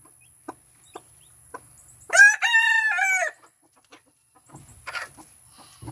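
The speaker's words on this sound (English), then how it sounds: "Move, chickens." A rooster crows once loudly and close by on a backyard farm where a mother hen tends newly hatched chicks, with scattered soft clucks and peeps before and after and quiet movement in between.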